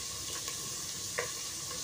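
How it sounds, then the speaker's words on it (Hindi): Onion, green chilli and coriander frying in a pan, a faint steady sizzle with a few light stirring clicks, one slightly louder near the end. "प्याज, मिर्च और जो हरा धनिया है ना, इसे हमें बहुत अच्छे से फ्राई कर लेना है।"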